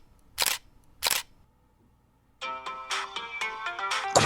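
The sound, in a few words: camera taking a photo with flash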